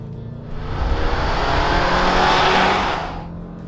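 A Chevy 2.7 TurboMAX pickup truck engine roars as it accelerates at full throttle in four-wheel drive, the sound swelling to a loud peak and then fading, with broad tire and road noise.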